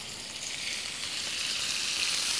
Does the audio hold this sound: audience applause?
no